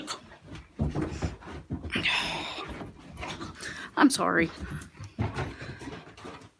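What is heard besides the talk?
dogs panting and whimpering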